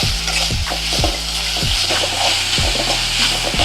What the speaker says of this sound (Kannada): ಕೊತ್ತಂಬರಿ ಸೊಪ್ಪು ಪುದೀನ ಎಲ್ಲ ಫ್ರೈ ಆಗೈತೆ